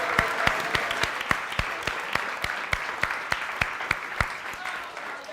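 Applause from a talk show studio audience comes as sharp, evenly spaced claps over a softer bed of clapping, moderately loud and continuous.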